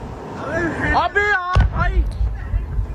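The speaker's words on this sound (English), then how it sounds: "We now hear the thud and the impact, and we can also see the fuel continuing to burn the wreckage." A single heavy thud cuts through voices as a drone, shot down by a direct hit, crashes into the desert beside a roadway; people talk over a low rumble before and after the impact.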